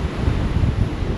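Strong wind buffets the microphone at a beach in San Juan, Batangas, a loud, continuous low rumble filling the whole moment with no voices.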